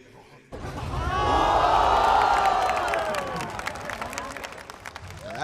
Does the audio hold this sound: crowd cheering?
yes